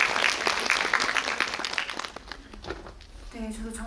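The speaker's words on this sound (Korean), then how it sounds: "오늘 박수 부탁드립니다." Audience applause erupts in a cinema screening room at Lotte Cinema World Tower during a guest visit event, loud clapping for about two seconds that fades away, then a voice begins speaking.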